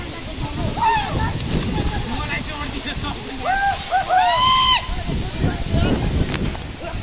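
Water tumbles steadily at Jalbire waterfall in Chitwan, a broad rushing roar that fills the clip. Several people talk and call out excitedly over it at close range.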